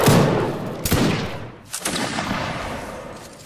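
Musket volleys roar in Mount and Blade Warband: Napoleonic Wars, loud and close, one heavy crackling burst rolling into another with echoing tails during a line battle.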